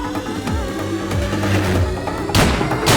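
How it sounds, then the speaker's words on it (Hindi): Gunfire from a Hindi-dubbed South Indian action movie, a burst of loud cracking shots over a dense, busy soundtrack, with sharp louder blasts near the end. "कोई ऐसा गोली चलाता है क्या?"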